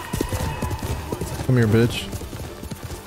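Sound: horse galloping in a video game

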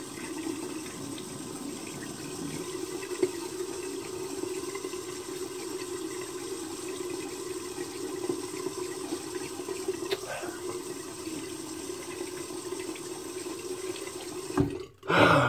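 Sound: water running from a tap while rinsing face and razor

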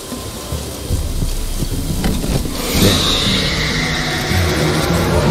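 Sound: rain and thunder in video game The Witcher 3: Wild Hunt

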